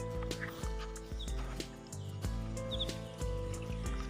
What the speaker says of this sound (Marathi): पक्ष्यांचे आवाज तुम्हाला ऐकू येत असतील.